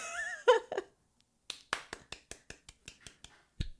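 A short burst of sharp hand claps or snaps, about ten crisp strikes at a quick, slightly uneven pace, close and clear after a brief stretch of talk.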